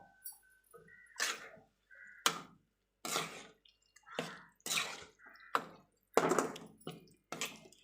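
Water is poured in separate splashing bursts into tamarind gravy in a cooking pot, roughly eight short pours with brief silences between, close and clear, no talk.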